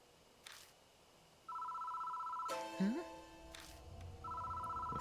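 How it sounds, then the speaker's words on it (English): Telephone ringing in the horror video game Deathmark, a steady electronic ring that sounds in two long bursts with a pause between, alongside other game sounds and a brief spoken exclamation. "The phone starts ringing out of nowhere."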